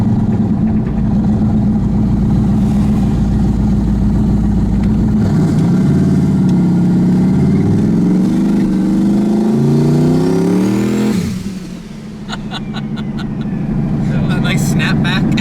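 A turbocharged LSX-swapped Chevrolet Colorado pickup pulls hard under acceleration on a casual Sunday drive, its loud engine note climbing steadily in pitch, then dropping as the throttle lifts, with a high turbo whine and flutter at the end while people talk in the cab.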